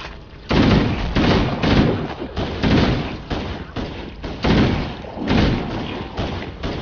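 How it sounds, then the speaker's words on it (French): Heavy gunfire in Halo: Combat Evolved Anniversary lands as a rapid series of loud, close thuds and bursts, about a dozen shots in irregular clusters aimed at the player. "Mais il y a quelqu'un qui me tire dessus ou quoi ?"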